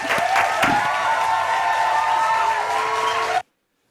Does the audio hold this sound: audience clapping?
yes